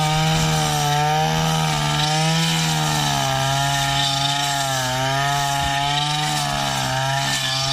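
A small two-stroke engine of a used Japanese Maruyama 23RX brush cutter drones steadily at high revs, its pitch wavering slightly up and down, loud and close without pause.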